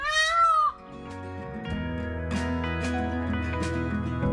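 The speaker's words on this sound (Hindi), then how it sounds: "यहाँ पर हमें मोर बहुत दिखाई दे रहे हैं, उनकी जो आवाज़ है," Peacock giving a loud, nasal rising call in woodland near Vanshivat, Vrindavan, followed by calmer background with repeated sharp chirps and tonal hum scattered across the rest.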